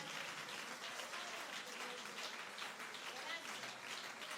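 A church congregation claps during a sermon, a dense, continuous wash of applause at moderate distance with a voice speaking over it.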